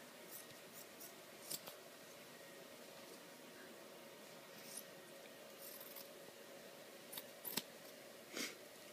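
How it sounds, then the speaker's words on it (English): Scissors snip a seam out of a cotton T-shirt, a handful of faint, brief crisp cuts scattered over a quiet background, close and alone. "Then you're going to go ahead and cut this seam out."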